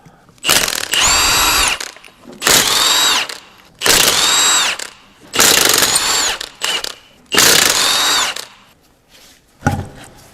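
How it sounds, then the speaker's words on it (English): A power tool whirs in five loud bursts of a second or two each, loosening a rear wheel locking nut on a Jaguar XF, separated by short pauses, close by with a high whining tone. "I'm going to just remove the wheel locking nut a bit first."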